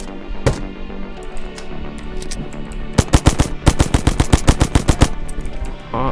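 Enemies fire guns in the blocky zombie game Zumbi Blocks 2: a few scattered shots, then a loud rapid burst of about a dozen evenly spaced cracks, followed by sparser shots.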